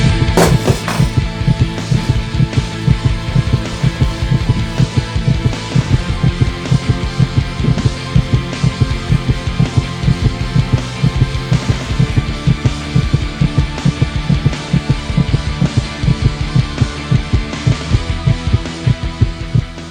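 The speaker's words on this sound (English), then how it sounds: "For many minutes the heart beat on with a muffled sound." A muffled heartbeat sound effect pulses steadily and loudly in a continuous rhythm of repeated dull thumps over a low throbbing hum, with no voices.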